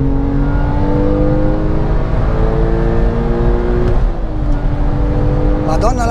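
A Porsche 997 Carrera 4S with manual gearbox revving hard through a gear and bouncing off the rev limiter, a loud rising engine howl that holds, dips, then stutters at the limiter, heard from inside the car.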